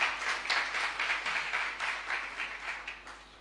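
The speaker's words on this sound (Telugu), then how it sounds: "గట్టిగా చప్పట్లు కొడదాం, క్లాప్స్ కొడదాం" Faint, distant applause from a crowd, a steady patter of many hands clapping that slowly tapers off.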